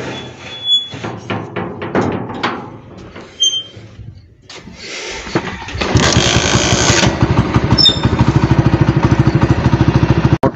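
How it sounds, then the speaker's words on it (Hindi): A motorcycle is kick-started outdoors and catches on the first kick, then settles into a steady, close, chugging idle after some light handling noises and rustling. "मोटरसाइकिल हमारा ना माशाल्लाह पहले किक को स्टार्ट हो जाता है और बगैर रेस पकड़े।"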